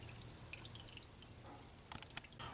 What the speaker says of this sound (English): While we let the oil drain out